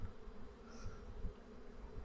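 Honeybees buzzing steadily around an open hive during a spring colony inspection, a close, continuous drone with no talk over it.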